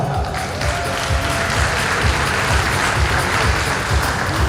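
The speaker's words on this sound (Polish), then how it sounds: "Wielkie brawa." Loud, dense audience applause fills a bodybuilding and fitness competition hall in Piotrków Trybunalski, steady throughout with low thumps mixed in.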